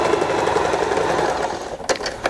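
A sewing machine stitches a small hem on a fabric ribbon with a loud, steady, fast mechanical whir for nearly two seconds, then stops with a brief clunk.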